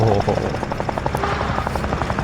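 Aircraft engine in the Sausage Man video game, a loud, steady, rapidly pulsing rotor-like chop close up, continuous and without talking.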